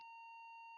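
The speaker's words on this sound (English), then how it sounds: "once again, we got that beeping" A steady electronic beep tone, a single sustained note with harmonics, sounds alone and close during a video game playtest.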